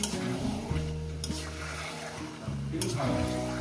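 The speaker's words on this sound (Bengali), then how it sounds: "তো বন্ধুরা দেখুন কত সুন্দর করে আমি কষিয়ে নিচ্ছি" Chicken kosha being sautéed and stirred in a pan, with a steady sizzle and frying hiss under spoon scrapes, close and loud, while a voice hums or speaks over it.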